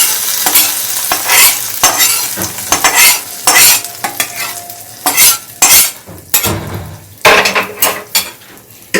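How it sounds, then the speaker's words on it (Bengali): Ginger-garlic in hot oil is poured into a lentil and egg mixture, then stirred loudly with a utensil clattering against the pot in irregular bursts over a sizzling background. "আদা রসুনটা এই যে তেল সমেত আমি কিন্তু এর মধ্যে ঢেলে দিচ্ছি"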